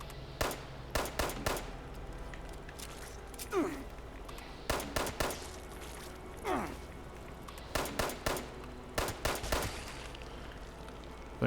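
Gun turrets in a wasteland survival game fire in rapid clusters of three or four sharp shots, repeating every couple of seconds with brief whooshing sweeps between bursts, fairly close and loud over a quiet background.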